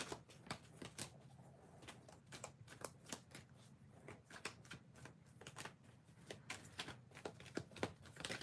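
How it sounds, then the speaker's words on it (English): A deck of tarot cards is shuffled by hand in quick, repeated riffles. The crisp flutters and taps come in an uneven rhythm, close by but quiet, with no talking. "Let me just shuffle the other deck"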